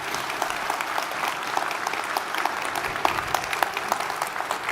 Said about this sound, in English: how about giving the Chief of Naval Operations a nice round of applause?